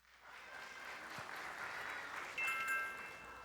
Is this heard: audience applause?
yes